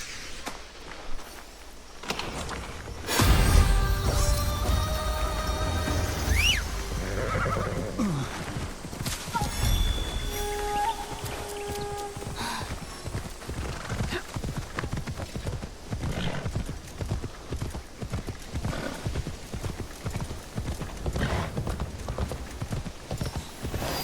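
A horse in Assassin's Creed Shadows gives a loud, close neigh, then its hooves clip-clop in a steady walking rhythm on hard ground for a long stretch, with faint talk in places.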